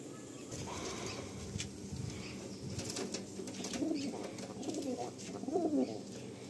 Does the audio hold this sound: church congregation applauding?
no